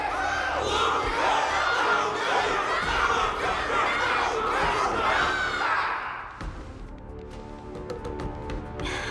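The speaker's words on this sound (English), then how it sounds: "Everyone's cheering for you, Luka!" A crowd in the Honkai: Star Rail video game cheers and shouts loudly and continuously, a dense roar of voices that fades after about six seconds into quieter thuds and clicks.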